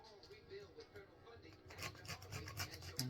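Wavy edge blade trimming scalloped edges on a tic tac toe game board, short soft rasping cuts that come in quick bursts, close and fairly quiet.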